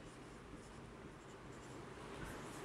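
Pen or chalk writing out a definition during a chemistry lecture on solid state, a faint continuous scratching under steady background hiss, with no speech.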